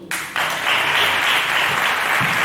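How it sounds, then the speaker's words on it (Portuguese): Church congregation applauding at a pastor's call, a broad steady wash of clapping that swells in quickly after a brief start and carries on loud and full to the end, with no talk over it. "Você pode aplaudir o Senhor?"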